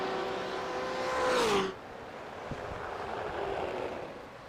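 BMW race cars carrying speed through road-course corners: a loud engine whine sweeps past and drops in pitch, then fades into a more distant, rushing engine roar.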